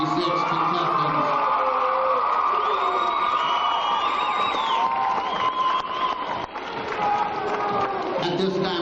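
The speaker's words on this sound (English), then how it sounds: "how about a round of applause for our 1996 contestants?" A loud audience at the 1996 Mr Spartan pageant applauds and cheers for the contestants, a continuous roar of clapping, whoops and shouts that sustains throughout with only a brief dip near the end.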